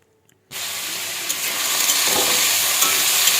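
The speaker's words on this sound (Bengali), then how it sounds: "এবার আমি আলুগুলোকে খুব ভালোভাবে নাড়াচাড়া করে নেব।" Potatoes hit a hot kadai and burst into a loud, continuous sizzle that starts abruptly and holds steady while they are stirred, with faint scraping ticks and no voices.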